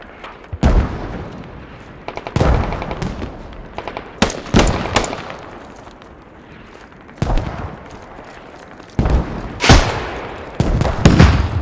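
Heavy mortar and gunfire in a Squad match between Chinese and US Army forces in Afghanistan: loud, sharp blasts and booms arrive in irregular clusters, some close and punchy, others rumbling with a decaying tail.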